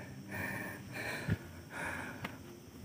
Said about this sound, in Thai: หอบจริงๆนะครับ